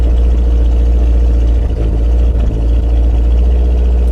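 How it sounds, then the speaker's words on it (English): A car engine with a loud aftermarket exhaust runs steadily, a deep throbbing idle rumble heavy in the low end, close and loud, with slight surges partway through and no talk. "Okay, that's an engine right there, folks"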